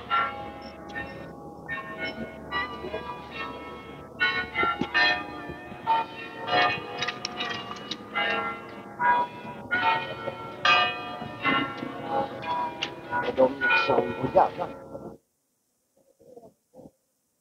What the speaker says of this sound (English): 4:30 bells.